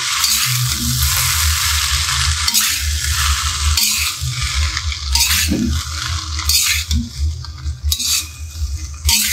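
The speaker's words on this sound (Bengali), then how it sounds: "এবার নুডলসগুলোকে ভেজে নিব তেলে।" Noodles frying in oil in a pan, with bursts of sizzling hiss and repeated clinks and scrapes of a utensil stirring against the metal.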